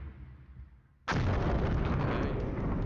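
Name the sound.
artillery firing in video game Flashpoint Campaigns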